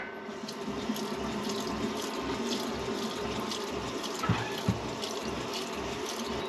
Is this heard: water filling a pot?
yes